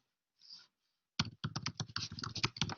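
Typing on a computer keyboard, a quick burst of crisp key clicks after a brief soft noise, close and fairly quiet, with no voices.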